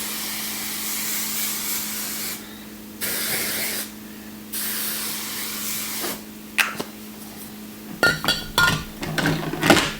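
Bursts of Variable Ghost oil sheen sprayed onto hair, several separate hisses of about a second each, close and fairly loud, followed by light rubbing and clattering handling sounds.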